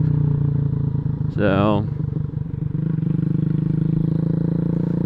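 A Boom Vader 125 motorcycle runs with a constant loud engine drone while riding, and a voice speaks briefly over it partway through.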